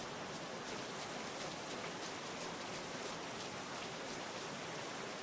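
Steady, dense rainfall hiss with soft patter in a video game, continuous and even throughout, no voices.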